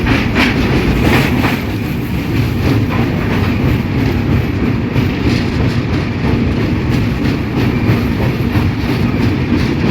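Tamil Nadu Sampark Kranti Express (12651) running on rails between Madurai and Delhi, a steady loud rumble of wheels with faint clickety-clack over joints throughout, no talk.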